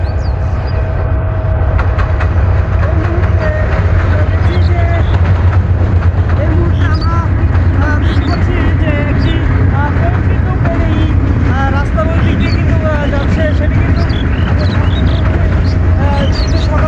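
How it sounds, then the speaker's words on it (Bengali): A morning train runs through fog toward Joydebpur station, a loud continuous rumble with rail clatter and wind buffeting the microphone while a person talks over it. "এটি কিন্তু সকালের ট্রেন। কুয়াশার মধ্যে দিয়ে কিন্তু ট্রেনটি জয়দেবপুর স্টেশন"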